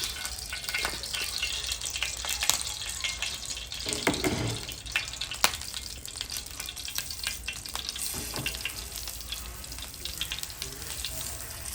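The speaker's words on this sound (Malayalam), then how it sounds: "അപ്പൊ ആള് മഷ്റൂം ടിക്കപ്പ് പൊരിക്കാൻ വേണ്ടി പോകുന്നു." Mushroom tikka pieces sizzle steadily in a pan, a continuous bright hiss with occasional clinks and stirring scrapes, close and moderately loud with no talking.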